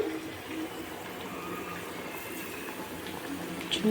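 Tati burelu, palm fritters, sizzle in hot oil with a steady, dense hiss and bubbling that holds level throughout, close and unbroken, without any voices.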